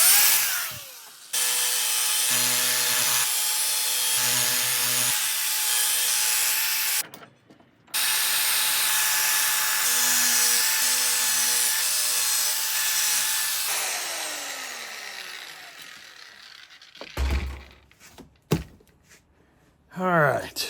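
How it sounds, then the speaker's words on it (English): An aluminum bat is polished on a buffer, a loud steady whirring rasp that runs for long stretches, broken by a couple of short stops, then winds down into quieter handling noises near the end. "we're done with the buffer."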